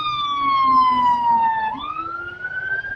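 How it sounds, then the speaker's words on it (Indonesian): An ambulance siren passes nearby on the road, its loud wailing tone sliding down, then sweeping back up, heard close with faint traffic rumble underneath. "Oh ambulan,"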